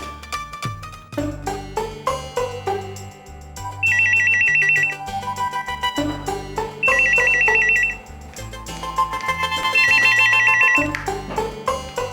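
A telephone ringtone plays loudly in repeated bursts of bright, warbling electronic tones over a rhythmic musical backing.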